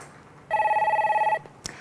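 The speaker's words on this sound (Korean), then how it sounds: "이번에는 전화 연결해 볼게요" A telephone ring for a viewer call-in on a Korean stock market broadcast: one short, loud electronic trill of under a second, then a faint click as the line connects.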